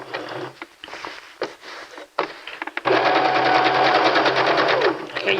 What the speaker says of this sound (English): Okay, you're going to meet that stitching and then back stitch.